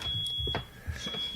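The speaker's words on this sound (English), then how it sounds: "That's the smoke detector." Smoke detector giving a short high electronic chirp over a steady background tone, with low rumbling room noise and no speech.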